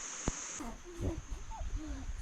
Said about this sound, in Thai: เสียงลิงอยู่ห่าง